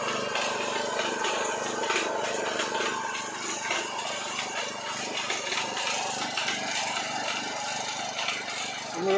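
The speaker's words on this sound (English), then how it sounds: "And we're drilling away." A drilling rig grinds steadily into the ground, a loud continuous mechanical roar with rough, churning texture throughout.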